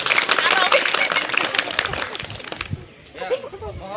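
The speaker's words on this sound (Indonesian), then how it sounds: "Tepuk tangan dulu." A school PMR group audience claps in a dense, rapid burst with crowd chatter mixed in, and the applause fades out partway through as voices carry on.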